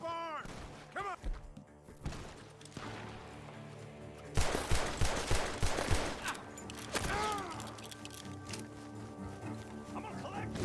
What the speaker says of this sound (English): Gunshots are coming from that barn.